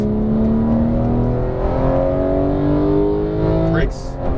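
An exotic race car accelerates hard on a track, its engine note climbing steadily in loud, continuous harmonic sweeps before a quick shift near the end, with an instructor's voice heard over it.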